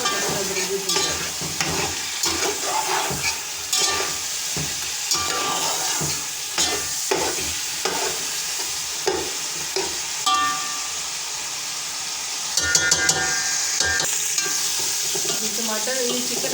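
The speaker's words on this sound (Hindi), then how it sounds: "चिकन भी भून जाएगा और लहसुन अदरक भी भून जाएगा" Chicken pieces with garlic and ginger sizzling in a pan for pulao, stirred with frequent scraping and clattering strokes over a steady close frying hiss, no one speaking.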